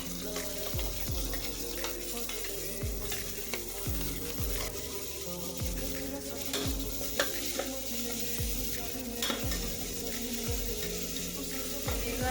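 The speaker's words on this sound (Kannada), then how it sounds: "ಇದ್ರು ಹಸಿ ವಾಸನೆ ಹೋಗುವವರೆಗೆ ಚೆನ್ನಾಗಿ ಫ್ರೈ ಮಾಡ್ಕೋಬೇಕು" Ground masala paste frying with golden-brown onions for chicken biryani, a steady sizzle with rhythmic low scraping strokes roughly every second, faint running water in the background, and no talk.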